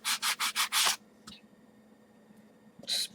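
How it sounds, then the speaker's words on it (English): Edges of PVC armor pieces being lightly sanded by hand: five quick, close rasping strokes in a steady rhythm, a brief scrape, a pause, then one more sanding stroke. "we're just going to lightly sand these edges a bit"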